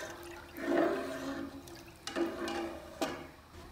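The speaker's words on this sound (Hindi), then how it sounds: "दूध में ऑलमोस्ट बॉयल आ चुका है" Milk nears a boil in a pot, giving a soft, steady bubbling hiss with a few faint pops and surges, quiet and continuous.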